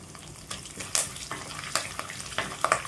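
Curry leaves and chana dal fry in hot oil in a pan for a tempering, giving a steady close sizzle with bright crackling pops scattered through it and no talking.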